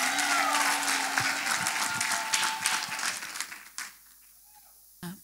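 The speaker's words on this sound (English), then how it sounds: "People of God, let us clap for Master Jesus." Church congregation applauding during a testimony service, a dense sustained burst of clapping with a held tone underneath that thins out and fades to near silence, followed by one brief knock.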